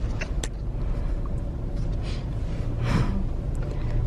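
Inside a car on a short drive, a steady low engine and road rumble fills the cabin throughout, with faint breathing and small rustles on top.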